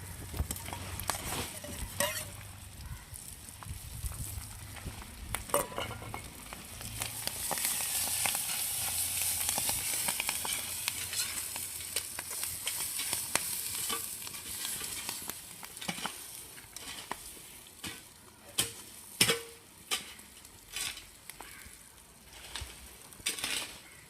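Clams sizzling in a hot pan with onion and tomato while cooking outdoors, a steady frying hiss with occasional stirring scrapes and clicks, close and moderately loud, no talking.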